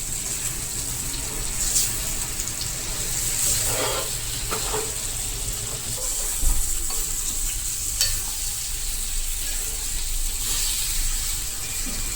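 Raw banana curry being stirred in a pan over a lowered gas flame, a soft steady sizzle with occasional scraping strokes of the spoon, close and continuous without talk.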